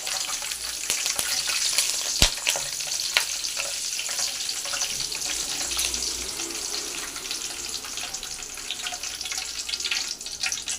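Curry leaves fry in hot oil for kara boondi, giving a loud, continuous crackling sizzle with sharp pops and occasional spoon scrapes, close by and without any talking.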